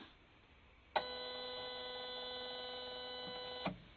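A Sparx skate sharpener drives its grind wheel along a figure skate blade, giving a steady mechanical whine that starts abruptly, holds evenly for almost three seconds and stops with a small clunk, close and fairly quiet.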